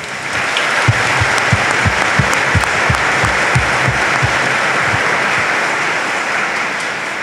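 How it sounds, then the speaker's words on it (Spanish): Congregation applauding mothers during a Catholic Mass, a broad steady wash of clapping throughout with rhythmic low thumps in the first few seconds. "Comencémosles dando un aplauso"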